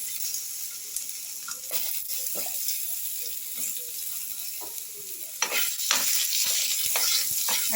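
Potatoes go into hot oil with a spice tempering. A soft sizzle runs underneath while a spoon scrapes and stirs in irregular knocks. Faint and close, with no speech.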